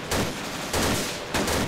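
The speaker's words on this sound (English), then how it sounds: "We're taking BTR fire." Gunfire from a BTR armored vehicle in a video game, three loud bursts of rapid automatic fire in quick succession, close and harsh with no talk.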